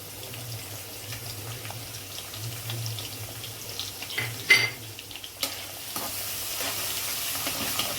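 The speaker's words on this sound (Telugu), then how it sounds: "ఆ తర్వాత మనం కచ్చపచ్చ దంచి పెట్టుకున్న వెల్లుల్లిపాయలు వేసుకోవాలండి." Crushed garlic frying with chana dal and urad dal in oil for an okra fry, a low steady sizzle with scraping stirs and a few sharper clinks of the spoon.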